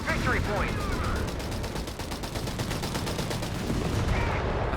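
A Breda Model 30 machine gun fires in Company of Heroes 3 as a rapid, continuous rattle of shots amid battle noise, with voices faintly in the background.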